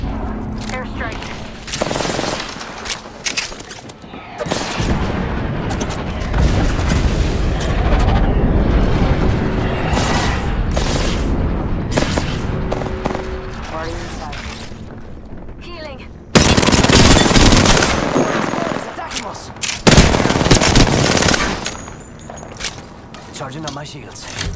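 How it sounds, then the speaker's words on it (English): Explosions and heavy gunfire from an airstrike in a first-person shooter video game, with dense, loud blasts and rapid automatic fire filling the scene while voices call out over the chaos. "Airstrike."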